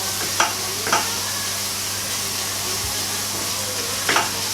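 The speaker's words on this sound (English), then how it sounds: "I'm just going to melt this down," Ingredients for a Quorn white sauce curry melting in a hot pan, a steady soft sizzle with a few sharp clinks of a utensil against the pan, no talking.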